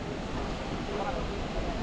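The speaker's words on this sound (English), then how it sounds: "Apparently it's the tallest, second tallest waterfall in Africa" Broadband roar of the Ouzoud waterfall in Morocco, a steady dense rush of falling water with wind buffeting the microphone, constant and loud throughout the short stretch.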